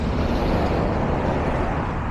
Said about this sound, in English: probably the 11th truck we've heard.